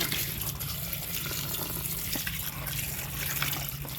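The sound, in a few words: water being poured in to wash taro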